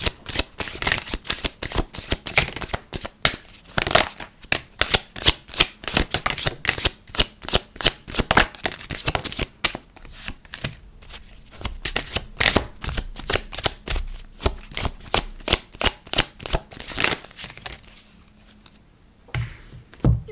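Message cards are shuffled and handled in a rapid run of crisp riffling flicks and slaps, close and loud, easing into softer handling near the end with no talk.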